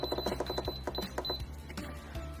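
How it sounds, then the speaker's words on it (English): Instant Pot control panel buttons pressed repeatedly to set a pressure cook timer for thawed chicken, a rapid series of crisp electronic beeps and clicks, close and fairly quiet. "we're going to push the pressure cook or the manual button"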